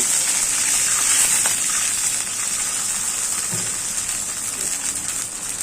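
Water goes into onion, ginger and garlic paste frying in oil in a wok, raising a bright, steady hiss that carries on at close range and eases slightly toward the end.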